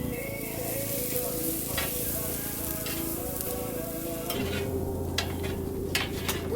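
Onions sizzle and crackle steadily in a pan over a propane flame outdoors, a dense continuous frying hiss, with a brief stir or clatter partway through as the sizzle shifts.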